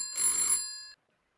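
A single short telephone ring sound effect in a Tales from the Loop tabletop role-play session, a bright bell-like burst that cuts off abruptly into silence.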